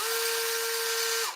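An old Bosch power drill whines steadily at high speed while boring a hole, loud and close, with a sustained tone that cuts off abruptly at the end.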